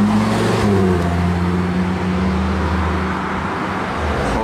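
A Lamborghini Huracan STO supercar driving through city streets, a loud, close, steady engine drone with a low rumbling tone that holds throughout, mixed with surrounding road noise and no voices.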